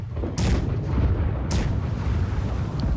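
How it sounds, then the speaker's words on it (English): Ship cannons fire in a naval battle in Blackwake, two heavy booms about a second apart, with rumbling low noise continuing between and after the blasts. "Left side cannons, fire all of them now."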